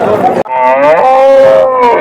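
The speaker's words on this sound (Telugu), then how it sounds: "ఒక జెర్సీ ఆవు అయితే ఉంది" A Jersey cow moos loudly and close at a busy cattle market, one long, drawn-out, tonal call that rises and holds before fading, with a brief break near the start.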